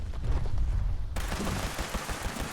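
V63 carbine fire in Fallout 76, aimed at an enraged Grafton monster, pours out as a continuous loud stream of rapid shots, dense and close, with no talk over it.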